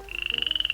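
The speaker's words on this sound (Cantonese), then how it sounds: "池塘裏邊此起彼落嘅青蛙叫聲" A frog croaks in a rapid, rhythmic series of pulsing calls, close and clear, for under a second.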